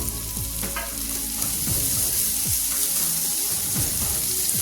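Sliced onions fry and sizzle steadily in a pan for a small-onion chutney, with several clear scrape-and-stir strokes from a spoon, close and fairly loud, with no voices.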